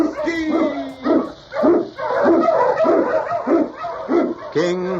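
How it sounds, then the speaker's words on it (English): Husky sled dogs bark and yelp repeatedly in a 1943 radio drama about an Eskimo lead dog and a Yukon sergeant, a loud, near chorus of rhythmic barks ending in a higher whimpering yip. "King, the swiftest, strongest of Eskimo lead dogs, blazes the trail through storm and snow for Sergeant Preston"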